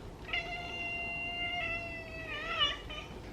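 A cat gives a long, drawn-out meow, fairly quiet and close, rising slightly at the end over a soft background hiss.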